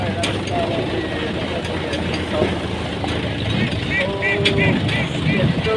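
Tractor-driven machine threshing paddy in a village field: a loud, continuous engine drone with mechanical whirring and clattering, and voices talking over it.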